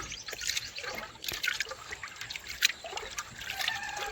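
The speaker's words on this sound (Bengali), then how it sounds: "নোংরা জলটা বের করে নিচ্ছি, আর 2 থেকে 3 বার জলটা ধুয়ে আমি ফেলে দিচ্ছি।" Dirty water from hand-washed rice trickles and splashes off softly and close by, with small irregular drips and pouring sounds throughout.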